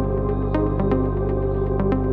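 Synthesized bass line built from three oscillators in FL Studio for an Afro house track, a steady sustained tone with rhythmic note changes and soft transient hits over roughly two seconds, playing alone without voices.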